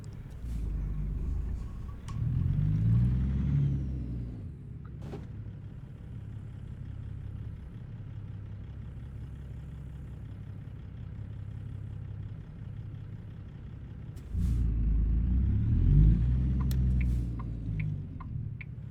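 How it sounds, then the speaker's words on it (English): A car drives up alongside a truck in American Truck Simulator, its engine swelling and fading twice as it passes close by, over the steady low hum and ticking of the truck's cab. "We do have a car coming up alongside of us."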